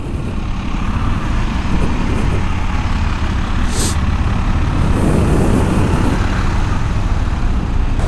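KTM 390 ADV motorcycle riding along, a steady broadband engine and road roar with wind rush, loud and continuous throughout with no talk.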